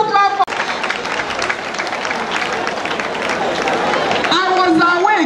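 Audience applause bursts out at a government event about raising Anambra state workers' salaries, a loud, dense crowd clapping with cheering and chatter that runs nearly unbroken after a brief voice at the start and fades toward a voice again at the end.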